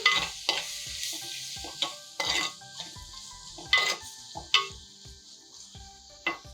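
A spatula scrapes and clinks rhythmically against a pan every second or so over a steady sizzle of frying tomato, close and fairly loud.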